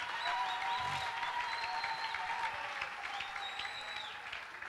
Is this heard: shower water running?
no